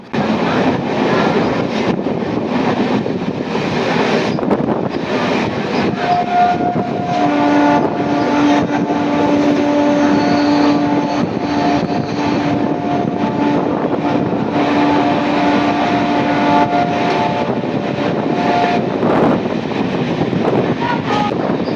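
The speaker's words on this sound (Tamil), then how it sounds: "காரைக்கோயில் ரயில்வே ஸ்டேஷனை ஸ்கிப் பண்ணிட்டு நம்ம ட்ரெயின் போயிட்டுருக்கு" A train runs past Karaikovilpathu railway station on the Karaikal–Peralam line without stopping, a loud, continuous rumble with wind noise and a sustained tonal hum partway through, no speech.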